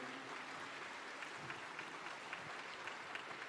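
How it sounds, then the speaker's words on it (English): Applause breaks out at a live OIC-CA Indonesia 2023 event at UINSI Samarinda as a guest is asked to stand, a steady, moderate wash of many hands clapping throughout, heard from within the room. "Big applause."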